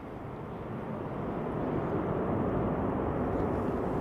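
British Airways Airbus A380 landing at London Heathrow in crosswind conditions, a broad rumbling engine roar that swells slightly and holds steady, fairly near, with no speech.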